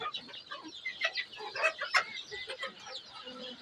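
Chickens cluck and chatter steadily on a small hobby poultry farm of about 500 birds of mixed ages, several hens overlapping at moderate distance with no speech.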